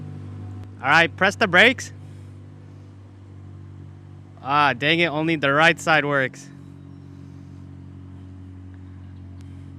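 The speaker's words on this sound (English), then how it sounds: "That exhaust note. There's no muffler, that's why it sounds like that." A wrecked car with no muffler runs at a steady, low, rumbling idle, droning continuously beneath two stretches of nearby conversation.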